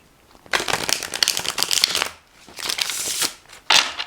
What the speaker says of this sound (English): if you love shuffling, you will be loving shuffling this deck